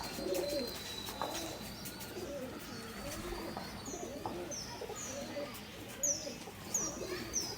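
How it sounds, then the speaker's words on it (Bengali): Imported Madrasi pigeons coo softly in a home loft, repeated low throaty calls in an irregular rhythm, close but quiet, with a few higher chirps from other birds. "এগুলো আমার বাড়িরই কবুতর"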